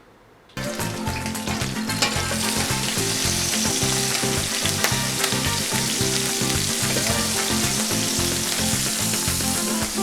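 Garlic and onion hit hot oil in a paella pan for lobster paella, a loud, continuous sizzle that bursts in suddenly and crackles steadily, with rhythmic stirring scrapes underneath.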